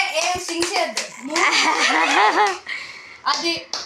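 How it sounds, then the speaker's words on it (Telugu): A family claps together at a parents' 40th wedding anniversary celebration, with brisk, close hand claps mixed with overlapping adult voices and someone talking. "claps claps claps"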